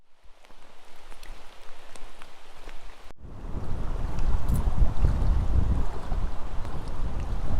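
Light rain falls at night in a national forest in the White Mountains of New Hampshire, a soft patter of drops that turns into a denser, louder steady shower about halfway through, with no talking.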